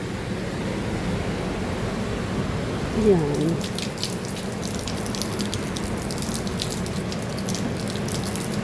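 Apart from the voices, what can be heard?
pouring water for face cleaner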